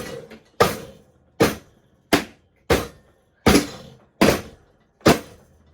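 Seven sharp, loud bangs struck at a steady pace, each a hard slam with a quick decay, imitating a door slamming shut.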